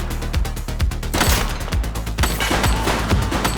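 Rapid bursts of gunfire from a fleeing suspect in the police game The Precinct, with repeated sharp shots and volleys across a dense, loud action mix.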